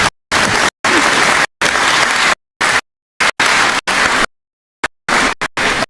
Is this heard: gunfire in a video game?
no